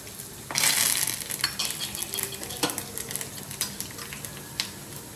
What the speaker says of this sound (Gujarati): હા એમાં આપણે આ થોડીક રાઈ અને આ છે જીરું ને લીમડો